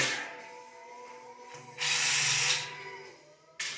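An electric power tool drives a quarter-inch bolt on a 1963 Harley-Davidson Panhead motorcycle, with a faint whir at first, one loud burst of close driving, then a short final rattle at the end.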